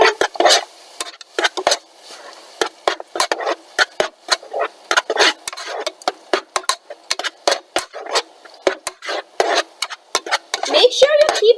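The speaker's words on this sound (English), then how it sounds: "Alright, give it a stir." Moong sabzi gets stirred in a cooking pot, a rapid series of close scraping and clacking strokes of a spoon against the pan, uneven in rhythm and fairly loud throughout.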